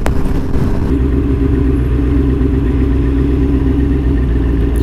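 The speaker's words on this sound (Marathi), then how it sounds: "पहिल्यांदाच या हायवेवर चालवतोय आणि खूप फास्ट जात आहेत गाड्या" Kawasaki ZX9R Ninja motorcycle cruising on a highway amid fast-moving traffic, a steady close engine drone with heavy wind rumble that holds constant throughout, no talking.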